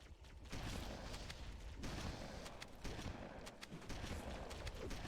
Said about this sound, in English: Throw some more nades.